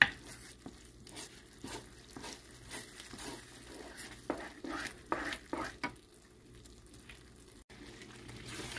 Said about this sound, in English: I put 3 teaspoons of butter in and just keep stirring.